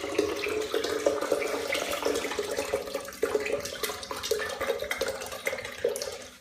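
Coconut water pours steadily into a blender in a continuous splashing stream, with gurgles and small bumps, close by and moderately loud with no talking.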